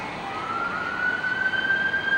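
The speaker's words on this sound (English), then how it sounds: "Like, you can hear the ambulance coming in the background." An ambulance siren near Dulles airport holds a steady high tone that grows gradually louder as it approaches from the background, with no voices.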